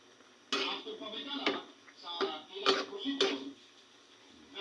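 A metal spoon stirs pork adobo in a cooking pot, giving a handful of sharp, irregular clanks and scrapes against the pot, close and moderately loud.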